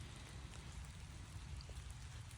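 Rain falling on a rainy morning at a rural property, a faint, even patter with scattered soft drops, quiet and steady throughout with no voices.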